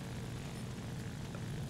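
A propeller plane engine in the video game War Thunder drones steadily and faintly, a continuous low rumble with no breaks and no voices.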